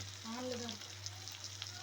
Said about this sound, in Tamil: ஒரு சின்ன சைஸு தக்காளி சரிங்களா, அதையும் போட்டு நல்லா தக்காளி மேஷ் ஆகிறதுக்கு நல்லா வதக்கிக்கோங்க